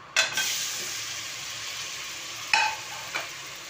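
Eggplant frying in oil with red chili powder in a pan, a steady close sizzle broken by a few sharp stirring scrapes near the start and end, no talk.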